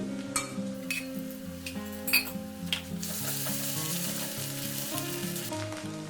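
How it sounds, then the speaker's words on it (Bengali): Onion with ginger, garlic and green chilli paste fries in a pan with a steady close sizzle, punctuated by several sharp clinks and scrapes of a spoon against the pan; no one talks. "এবার আমি এখানে দিয়ে দিচ্ছি আদা রসুন আর কাঁচা লঙ্কা বাটা"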